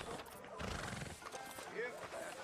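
A horse in the Red Dead Redemption 2 video game whinnies and clip-clops close by, with voices talking over it.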